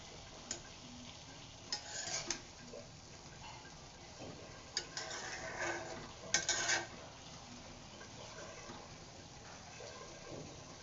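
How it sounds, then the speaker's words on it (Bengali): Potato bhaji frying in a pan for breakfast, with soft sizzling, faint and fairly distant, broken by a few sharp clinks and scrapes of a spoon stirring against the pan. "আজকের ভিডিওটা সকালের জন্য আলু ভাজি করতেছি"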